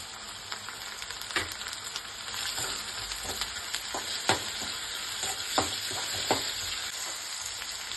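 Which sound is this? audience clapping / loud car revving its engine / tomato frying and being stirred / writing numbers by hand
tomato frying and being stirred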